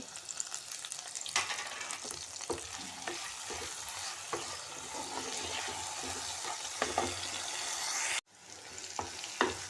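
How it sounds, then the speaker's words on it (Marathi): Chopped tomato goes into onion frying in a pan for a Malvani-style surmai fish curry and gets stirred. There is a steady close sizzle with repeated scraping stir strokes, a brief cut near the end, and no talk. "आता मी ह्यामध्ये हा टोमॅटो टाकते."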